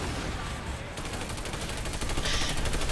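Dense, continuous gunfire from the Planetside 2 online shooter, rapid automatic bursts blending into a steady barrage, loud and close throughout with no clear pauses.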